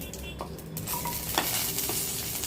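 Onions frying in a pan with a continuous sizzle, broken by scraping and clinking as they are stirred, close and steady.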